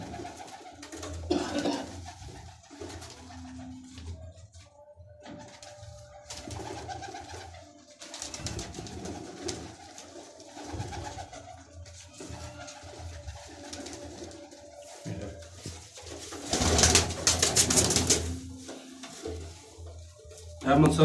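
Grey pigeons coo in soft repeated bursts at a pigeon-fancier's loft, moderately near, with scattered clatter and handling noises between the calls.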